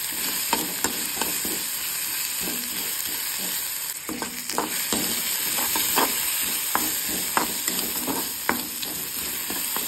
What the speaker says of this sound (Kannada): ಒಣಮೆಣಸು ಜೊತೆಯಿಂದ ಏನು ಮಾವಿನಕಾಯಿ ಮತ್ತು ಹಸಿಮೆಣಸು ಕರಿಬೇವು ಇಟ್ಟಿದ್ವಿ ಅದನ್ನು ಹಾಕ್ಕೊಂಡು ಚೆನ್ನಾಗಿ ಹುರ್ಕೊಳ್ಬೇಕು